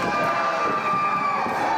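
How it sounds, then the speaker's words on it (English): Loud, wild crowd cheering at a TCW wrestling show, a dense continuous roar of shouting fans that holds steady throughout with no break. "the crowd have gone absolutely wild here"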